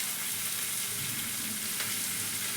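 Cabbage frying in a pan, a continuous loud sizzle with faint stirring scrapes, close and alone without voices.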